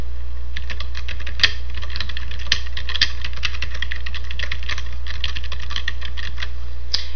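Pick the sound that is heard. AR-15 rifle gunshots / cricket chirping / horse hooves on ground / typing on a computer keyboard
typing on a computer keyboard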